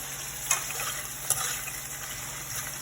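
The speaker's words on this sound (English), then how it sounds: "as we are frying our onion and the green onion" A steady, bright sizzle of onion and green onion frying in a pan, with a couple of short clinks from stirring.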